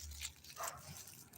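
Dogs barking in short, faint yips, two or three quick barks close together, heard alone without talking.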